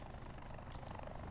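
Faint, steady rotor-and-engine drone of a helicopter in the shooter Call of Duty: Black Ops 4, distant and continuous with no speech.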